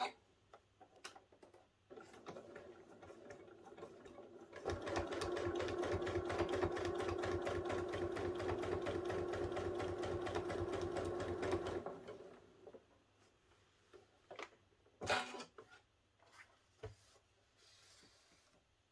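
A sewing machine quilting fabric runs in one steady, close stitching burst of about seven seconds, with scattered light clicks and handling noises before and after.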